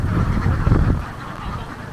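A large flock of ducks on a farm in the Mekong Delta region of Vietnam quacks and honks continuously, a dense, loud chorus of overlapping calls close by.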